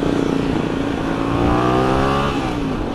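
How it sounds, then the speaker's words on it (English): A motorcycle engine running loud and close while its clutch is dumped, with a rough steady drone that surges and shifts pitch midway as the bike jerks forward under strain on the chain and transmission. "I just dumped the clutch and the bike is, so the chain is taking the strain, the transmission is taking the strain"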